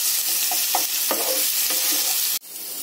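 Ground garlic fries and gets stirred into a masala for a mixed dal roll, a steady loud sizzle with spoon scrapes, ending in a sudden sharp clatter before the sizzle drops.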